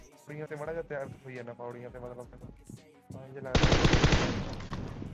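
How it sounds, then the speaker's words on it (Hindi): Someone talks excitedly, then a sustained burst of rapid gunfire from PUBG Mobile erupts, loud and continuous for the last couple of seconds. "मैं उस बंदे के बगल पे गोली चलाता हूँ"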